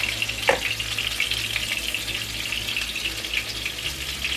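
Thin, chip-like potato slices fry steadily in a pan, a constant close sizzle and crackle with a brief sharper pop near the start.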